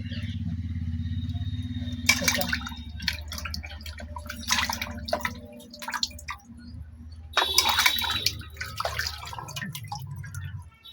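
Pabda fish being washed clean by hand in water, with bursts of splashing, dripping and trickling set against a low steady background rumble and quieter gaps between the splashes.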